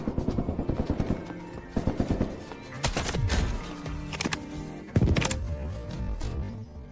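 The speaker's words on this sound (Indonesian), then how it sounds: "Ada suara tembakan. Ada orang di gedung barat." Gunfire in the Delta Force video game, office-building setting: rapid bursts of automatic shots with sharp single cracks, some distant and some closer, echoing continuously with no talk over it.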